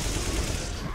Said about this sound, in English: take out your deagle. That's 6 shots left. Don't miss!